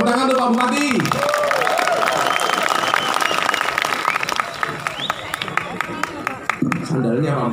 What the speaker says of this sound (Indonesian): Tepuk tangan tuh Pak Bupati.